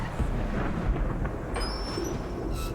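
Storm rumble from a 2016 Ford Explorer commercial, a steady loud roar of thunder and rain with a bright crackling streak near the end, heard alone without talk.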